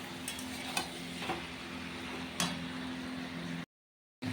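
A curry sautéing in a pan gives a low, faint sizzle with a steady hum, broken by a few sharp clicks of a spoon against the pan, then a short gap of silence.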